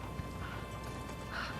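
Horse hooves clip-clop at a steady quick pace against a constant background hum, with no talking over them.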